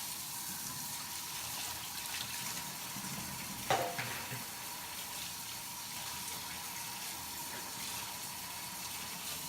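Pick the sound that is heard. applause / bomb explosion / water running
water running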